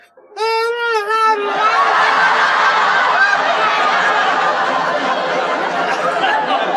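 A person attempts a war whoop imitation, a warbling voiced cry with rapid wavering pitch, followed by a long, loud, sustained strained yell with hoarse laughter-like textures, close to the mic.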